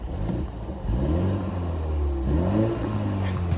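A new BMW 3 Series engine revs in normal driving mode, a moderately loud, smooth mid-pitched rise in engine note that climbs, dips and climbs again, heard alone without talk.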